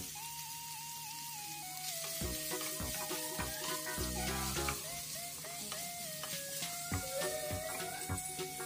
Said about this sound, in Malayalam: ഇനി അതിലേക്ക് 2 മീഡിയം സൈസ് ഉള്ളി സ്ലൈസ് ചെയ്തതിട്ട് വഴറ്റിയെടുക്കാം.